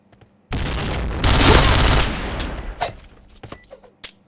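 A dense burst of gunfire in the online shooter Point Blank, rapid shots blurring into a loud roar for about two seconds, then tapering into a few scattered single cracks and clicks, no talking.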